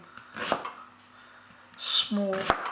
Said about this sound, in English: Got half an onion there, and then just going to make it into very small